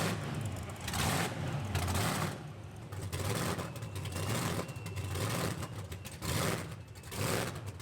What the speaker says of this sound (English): it was really cool to see this truck bus driving around